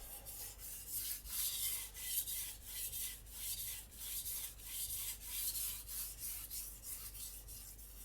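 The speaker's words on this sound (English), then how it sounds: "I'm just gonna do a couple lighter passes to make sure the burr is uniform." Takamura Migaki R2 gyuto knife drawn across a lightly wetted whetstone in light passes, a close, rhythmic series of gritty scraping strokes, about a dozen evenly spaced, with no talk.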